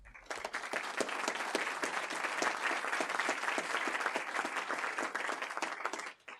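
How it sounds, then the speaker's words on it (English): An audience gives a sustained round of applause for student leaders at a school honors ceremony, many hands clapping in a dense, even patter that carries on for several seconds and then tapers off at the end. "can we just give one more round of applause to these incredible student leaders?"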